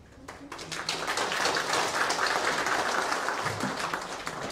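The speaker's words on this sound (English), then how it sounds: "a bigger round of applause for the initiative itself." Applause from an audience at a hotel event, clapping swelling in quickly and holding as a steady, moderately loud patter from a room full of people.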